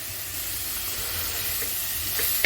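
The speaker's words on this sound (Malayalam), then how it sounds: "എന്നിട്ട് നല്ലപോലെ വെളിച്ചെണ്ണയിലൊന്ന് വഴറ്റിയെടുക്കുക" Chopped vegetables for a sardine curry sauté in hot coconut oil, giving a steady close hiss and sizzle, with a soft clink near the end and no one talking.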